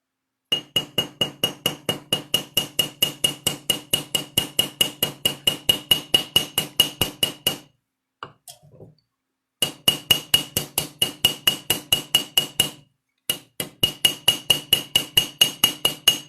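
Hammer striking a copper rivet head while making a copper business card holder, a long run of sharp, evenly spaced metallic taps at a quick steady rhythm, close and clear, with two short pauses between runs.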